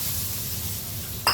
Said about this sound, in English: next I'm going to put in this mixture of dry spices